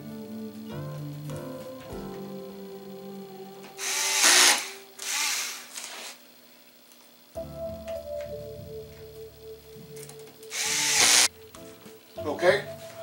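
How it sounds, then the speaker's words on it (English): Silver screws being driven back into small white plastic clips on a 65-inch RCA LED TV during repair, heard as a few loud bursts of a power screwdriver whirring between pauses, with talk and faint handling noises in between. "we're going to put our silver screws. Back in these little white pieces here."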